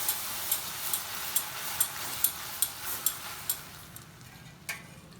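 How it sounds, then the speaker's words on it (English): A spoon stirs hot milk into liquid caramel for mishti doi, tapping the pan in a steady ticking rhythm about twice a second over a soft sizzling hiss that fades toward the end. "little by little you just add the hot milk and just stir it"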